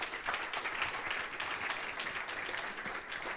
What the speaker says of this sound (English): Your round of applause for these guys.